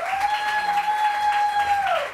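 Studio audience applause on a morning television show, a continuous, even patter of clapping that carries throughout, with a steady sustained musical tone sounding over it.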